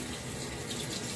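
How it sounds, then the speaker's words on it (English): Water runs steadily onto a makeup remover cloth at a sink, a constant close splashing rush with no talking. "a little bit of water on it"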